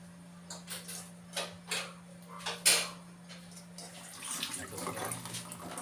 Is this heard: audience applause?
no